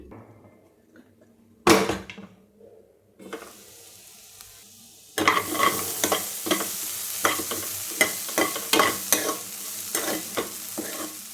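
Beans stir-fried in a pan: a quiet start with a sharp clatter, then loud sizzling with repeated rhythmic scrapes and tosses of a spatula, no one speaking.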